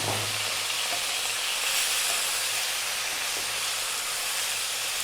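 Pork with a tablespoon of chopped garlic stir-fries in a hot pan, giving a loud, continuous hissing sizzle that stays close and steady throughout.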